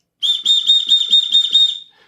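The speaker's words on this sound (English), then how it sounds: "it's got a whistle." A shrill rescue whistle built into an everyday carry lighter is blown in a rapid series of about seven pulsing, close, loud blasts, ending abruptly.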